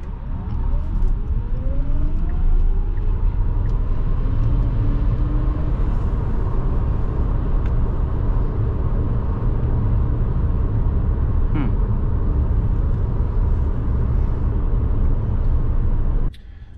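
A Tesla Model S Plaid electric car drives past with a steady low road rumble and tire noise, lasting about sixteen seconds at constant loudness with no voices, ending abruptly.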